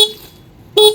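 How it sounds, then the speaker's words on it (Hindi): Horn of a TVS Apache RTR 160 2V motorcycle, sounded twice in short close loud blasts, one at the start and one near the end, separated by quiet. "हॉर्न इसका कैसा दिया गया है मैं आपको बजा करके दिखला"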